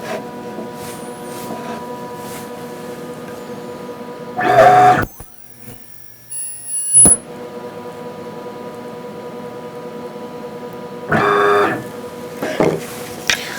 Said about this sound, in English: initiate the weld. And weld it on another spot here.